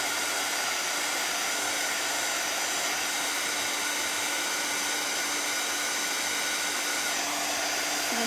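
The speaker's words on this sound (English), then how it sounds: "Let's hit this with the dryer a minute." A hair dryer blows steadily on a Santa gnome craft project, a constant loud whirring hum with a high whine that runs unbroken from start to finish, with no voices.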